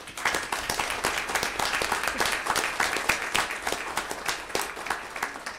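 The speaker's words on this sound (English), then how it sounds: "join me in one more round of applause recognizing our Science of Reading winners" A room at a state board of education meeting applauds reading award winners: a loud, sustained round of many clapping hands with crisp individual claps standing out, steady throughout.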